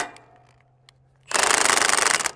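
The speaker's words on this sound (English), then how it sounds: "I can use that impact directly on the socket up here at the top to adjust that array." A cordless impact driver hammers on a socket to turn the tilt adjuster on a solar array, a loud steady rattling burst that starts abruptly after a quiet stretch of faint handling noises.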